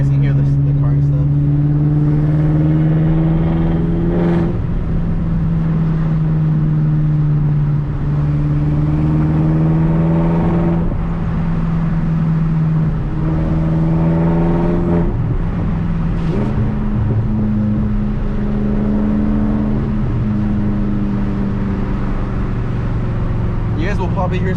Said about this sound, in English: You guys can hear the car and stuff.